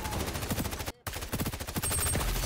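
Rapid automatic gunfire from the video game XDefiant rattles in loud close bursts, breaks off for a split second, then resumes with overlapping shots.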